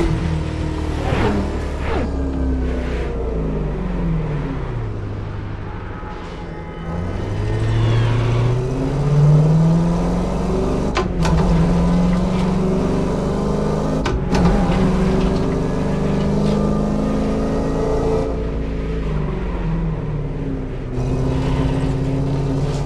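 In The Crew Motorfest, a BMW Z4 M40i engine revs up and down in a series of pulls, its tone rising and falling across gear changes, with a couple of sharp clicks partway through.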